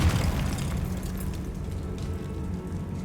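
Confringo fire spell explosion in the Hogwarts Legacy video game, a booming blast that quickly gives way to a rumbling, crackling fiery tail, no talking.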